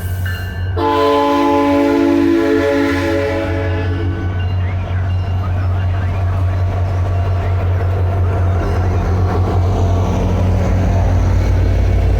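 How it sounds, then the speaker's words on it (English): A loud SunRail commuter train rumbles past at Poinciana Station with a long, blaring horn blast at the start, then steady heavy rolling noise continues throughout. "Another train coming"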